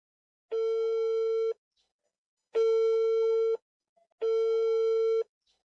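A telephone busy tone sounds on a call as three long, steady, clean beeps of equal length, separated by silent gaps.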